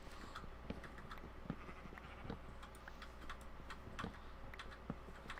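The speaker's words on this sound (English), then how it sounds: "I have 2 pop filters on it to help restrict the amount of clickety-clack from the keyboard" Typing on a computer keyboard at a streaming desk, a quiet, irregular run of clicks and clacks, softly damped and somewhat distant.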